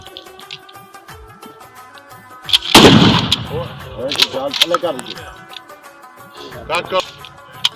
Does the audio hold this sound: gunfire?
yes